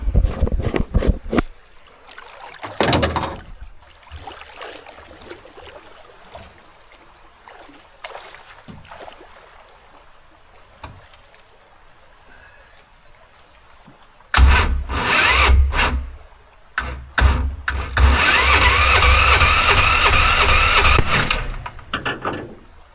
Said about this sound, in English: So we're going to idle this thing up a little bit and see if we can get it going again.